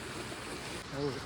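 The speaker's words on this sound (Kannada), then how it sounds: "ನೀರು ಹರಿತಾ ಇದೆ." Water from a stream flows on a rainy day near a waterfall, a steady soft broadband rush that lasts throughout, with a brief voice near the end.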